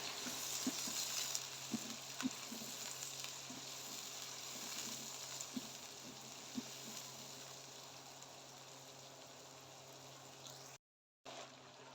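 Onions frying steadily in about one and a half cups of hot oil in a kadhai, a soft continuous sizzle with faint scattered stirring clicks, fairly quiet and alone.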